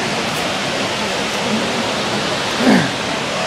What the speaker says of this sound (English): This is Triple Falls in Dupont State Forest